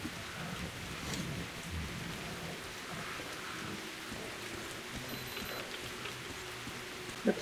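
Continuous rain hisses down in the Metro Redux video game with low thunder rolling beneath it, a steady, fairly quiet wash of drops with faint game tones and one sharp tick near the end.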